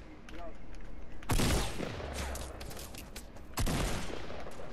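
Two heavy gunshot blasts in a Fortnite Battle Royale match, the first loud and close, the second a few seconds later, each with a rolling echo over steady game noise and faint voices.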